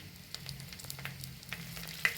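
Quiet crackling and popping of dried red chilies frying in hot oil, with small irregular spits and sizzles.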